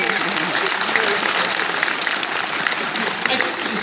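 Sustained audience applause fills a Comic Con 2015 panel room for the Kung Fury panel, a dense, steady wash of many hands clapping at close range without pause.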